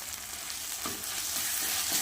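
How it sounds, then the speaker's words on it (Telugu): Ginger garlic paste frying with softened tomatoes for a homemade potato kurma, a soft, continuous sizzle that builds slightly over about two seconds with no talking. "ఇది కూడా పచ్చివాసన పోయే వరకు ఫ్రై చేసుకోవాలి."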